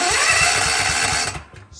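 Generator starter motor cranking via a DIY remote start, a loud close whirring with a rapid pulsing rhythm that runs for over a second and then cuts off.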